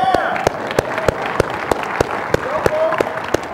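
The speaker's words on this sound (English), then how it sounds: "That second round of applause was not for me." Applause from an audience at a tech startup community talk: a loud, close burst of clapping with regular sharp claps standing out about three times a second, and a voice briefly speaking over it.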